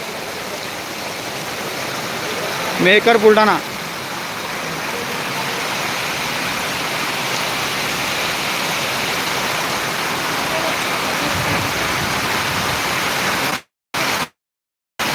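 Heavy monsoon rain in Mehkar, Buldhana, a loud, dense, steady hiss of downpour with a brief tonal interruption early on and a couple of abrupt dropouts near the end.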